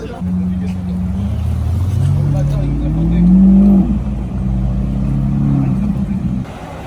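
Lamborghini sports car driving past at Place Vauban in Paris, its engine rumbling loud and close with a rising swell mid-pass, under crowd chatter and voices talking.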